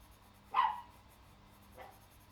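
A dog bolts out barking toward neighbouring dogs from inside a house with the door shut, giving one muffled, distant bark followed by a fainter second one about a second later in a quiet room.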